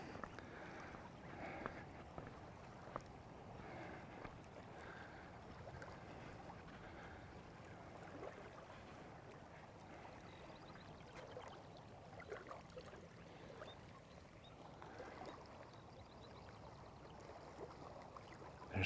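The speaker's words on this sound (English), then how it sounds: "There's something about the sound of water that just soothes the soul." Steady rushing river water on a Montana hiking trail, fairly constant and close, with a low wash underneath and a faint breeze; no voices.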